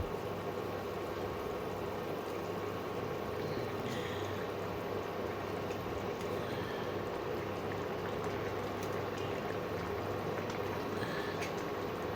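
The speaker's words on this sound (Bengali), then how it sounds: "ঝোলটা ফুটতে আরম্ভ করেছে, এবার আমি আস্তে আস্তে মাছগুলো দিয়ে দেবো" Parshe fish curry gravy, a mustard-oil tel jhal, simmering in a pan, giving a steady, even bubbling hiss that continues throughout with no talking.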